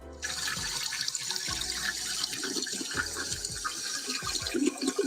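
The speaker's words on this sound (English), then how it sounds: "I'm flushing them down the toilet." A toilet flushing in a home bathroom, a continuous close rush of running water with gurgling swells, heard alone without talk.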